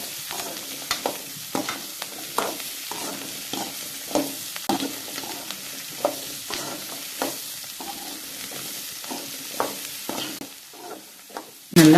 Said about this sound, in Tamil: பூண்டு வெங்காயம் நல்லா வதங்கணும். பச்சை வாசம் போகிற வரைக்கும் நல்லா வதக்கணுங்க.